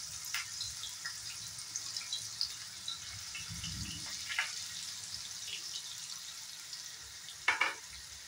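Diced potatoes sizzling quietly in a pan of hot oil for a paneer curry, a soft, steady frying hiss with occasional stirring scrapes and a brief louder clatter near the end.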